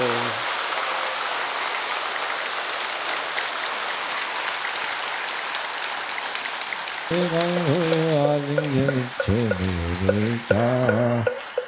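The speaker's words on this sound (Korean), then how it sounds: "오늘 좋은 날, 좋은 법문 해주신 동원 스님께 다시 한번 큰 박수 부탁드리겠습니다" An audience applauds after a Buddhist sermon at a temple in Busan, a steady, moderately loud wash of clapping that runs throughout, while someone speaks over the second half.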